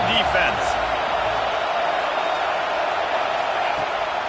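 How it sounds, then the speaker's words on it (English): A packed stadium crowd roars at a Syracuse at Penn State college football game, a loud, steady wall of noise that holds without a break. "Listen to this crowd just shaking the girders of this place"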